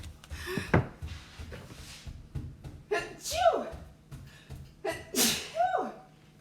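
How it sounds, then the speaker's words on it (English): A person with allergies sneezes three times during an indoor chalk-stenciling craft session, each sharp, close burst preceded by a quick gasping inhale, with quiet room noise between. "I've been sneezing a lot lately"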